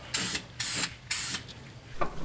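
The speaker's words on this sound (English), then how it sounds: "I sprayed on some primer and paint to help keep the rust out" Three short bursts of aerosol primer and paint sprayed under a BMW E46 race car, each a loud, close hiss about a quarter second long at an even rhythm, followed by a faint final puff.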